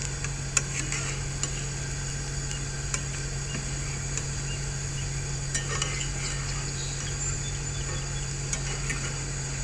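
Steady, quiet sizzling with scattered small pops and crackles as potatoes fry in hot oil in a cast iron pan, with a low constant hum underneath.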